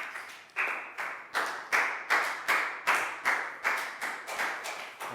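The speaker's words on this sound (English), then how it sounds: "Big round of applause for Prel," Schoolchildren in a Year 4 English lesson clap in unison for a classmate, about a dozen sharp, evenly spaced group claps with a steady rhythm, close and fairly loud, with no talking.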